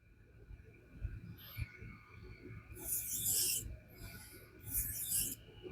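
A Gerber Sumo knife drawn across a King water stone during sharpening: quiet, gritty rasping strokes in a few separate bursts, close by, with soft handling noise between them.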